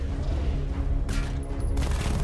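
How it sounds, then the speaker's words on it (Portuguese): Rapid machine gun fire from a vehicle weapon in Batman: Arkham Knight, battling unmanned tanks in Chinatown, rattles as dense continuous bursts mixed with game music and effects, loud and steady throughout. "Nós temos a metralhadora."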